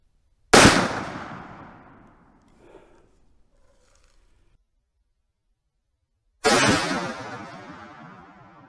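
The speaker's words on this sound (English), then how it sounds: "We'll just pull the trigger and see what happens." Two loud, sharp gunshots from a .44 Magnum revolver firing Speer Deep Curl bullets outdoors, spaced about six seconds apart, each with a long ringing echo tail that fades over a couple of seconds.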